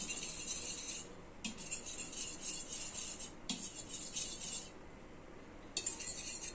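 A spoon stirs a milk mixture for mawa kulfi in a metal pot, producing repeated light clinks and scraping taps in short bursts with pauses, close and fairly quiet.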